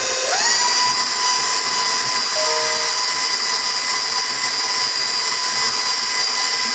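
An electric mixer whirs up to speed and runs with a steady high-pitched drone while mixing streusel banana bread muffin batter, loud and continuous with no talking.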